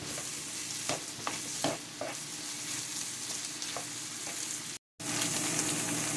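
Potatoes fry in a pan with a steady, close sizzle, punctuated by a handful of soft scraping stir strokes, with a brief dropout near the end before the hiss resumes.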